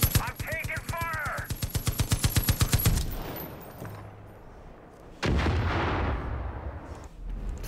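Heavy gunfire during an attack run in Far Cry 5: a rapid, evenly spaced burst of loud shots for about three seconds, then quieter rumbling and a second roaring stretch of fire, with a voice speaking over it.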